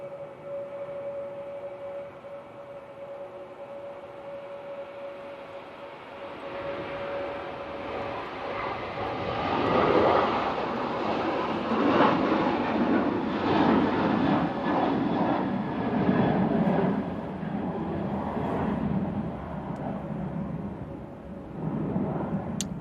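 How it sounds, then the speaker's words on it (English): Ryanair Boeing 737-800 taking off from windy Manchester Airport, bound for Gran Canaria; a distant, steady low jet roar swells after a few seconds and keeps rumbling continuously with no voices. "Ryanair, off to Gran Canaria there using the 737-800"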